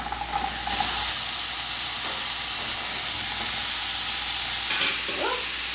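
Onions sizzle steadily in hot olive oil, a loud continuous frying hiss with occasional stirring scrapes.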